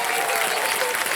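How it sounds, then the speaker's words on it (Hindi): Studio audience on a televised quiz show applauding steadily, a dense wash of clapping over the full moment with a few faint voices mixed in. "तालियां बजने सब इनके लिए।"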